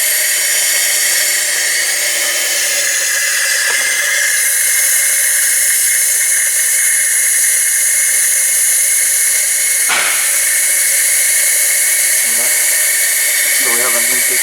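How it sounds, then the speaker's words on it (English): Brake cleaner sprays in a steady, loud hiss onto the engine intake of a 2017 Hyundai Tucson with a new short block and a cylinder misfire, continuous throughout with small shifts in pressure. "I'm just using a brake cleaner just to verify"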